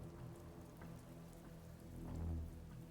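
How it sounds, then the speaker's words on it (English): Steady rain patters across a metal surface in a video game, a dense, even drumming with a low rumble swelling briefly near the end. "making it convincing as if it's rain landing on metal"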